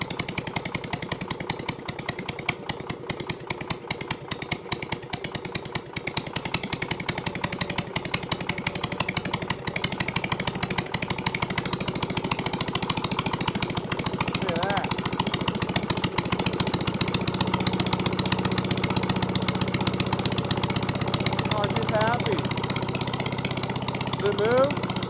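An old Case trencher engine runs steadily and roughly at close range, with a dense mechanical clatter throughout and a slight rise partway through as fuel is added; voices speak briefly over it.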